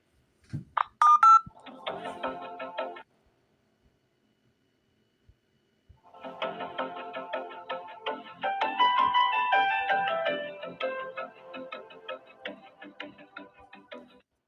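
A telephone call being transferred to a restaurant by an automated operator system, with short tonal beeps at the start, a pause of silence, then a longer stretch of tonal electronic ringing and music-like tones.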